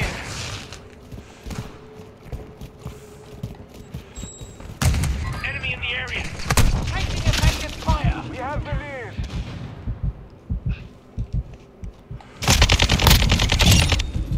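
Rapid gunfire from a green gun in a video game team loadout, heard as repeated bursts and single shots with heavy thumps, loudest in dense volleys near the middle and end.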